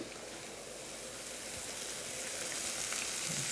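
Jalapeno sizzles in hot oil in a pan for the brisket hash, a continuous close hiss of frying that holds steady throughout with no talk.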